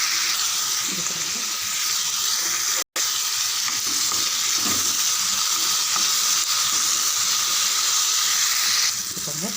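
Tomatoes and curry leaves sauté for kaara chutney in a pan, giving a loud, continuous sizzle that cuts out for an instant early on, then hisses on unbroken.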